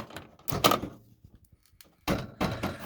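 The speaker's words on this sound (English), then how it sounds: "once we open the door, this will activate this switch" Microwave oven door opening and pressing its internal door switch, heard as a few close, sharp clunks and clicks separated by a quiet pause.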